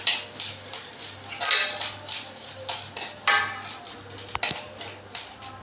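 Grated coconut is stirred while roasting in a pan, with repeated scraping and clinking of a spatula against the metal in uneven strokes over a faint sizzle and steady background hum.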